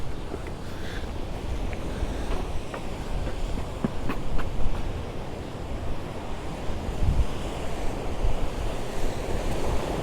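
Surf washing onto the beach at Cala Bona, Mallorca, a continuous broad roar of waves with wind buffeting the microphone and no voices.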